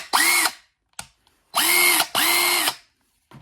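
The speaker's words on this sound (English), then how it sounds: "Let's test the little guy out." A Porter-Cable 20V impact driver, model PCC641, runs in three loud close bursts of whining motor, each about half a second long, with short blips and quiet gaps between them.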